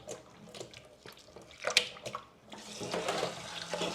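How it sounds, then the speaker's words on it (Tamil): Lentils being rubbed and washed by hand in a bowl of water while cooking Sri Lankan dal curry: soft, close swishing and sloshing that grows busier and fuller toward the end. "நல்லா பருப்பை நல்லா கழுவணும் இப்படி கசக்கி கழுவணும்"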